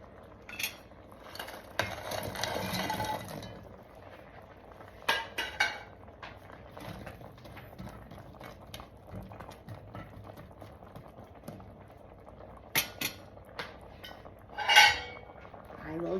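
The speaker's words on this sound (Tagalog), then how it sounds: "ilalagay ko na po ang ating fried belly. Fried pork belly." Fried pork belly goes into a simmering Bicol Express pan, with soft bubbling underneath, scattered clinks and scrapes of a utensil against the pan, and a few louder clatters. The sounds are close and moderate in level.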